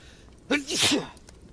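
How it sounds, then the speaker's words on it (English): A single loud, sharp sneeze bursts out close to the listener, preceded by a quick intake of breath, then quiet. "I released a painful sneeze"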